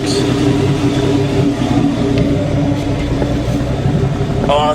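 A car engine, freshly fitted with a newly installed transmission, runs and revs steadily in a workshop, a loud continuous mid-pitched drone with slight swells and no pauses throughout.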